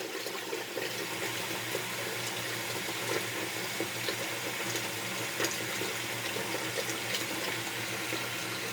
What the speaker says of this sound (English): So I have it in the sink, it's just running next to it.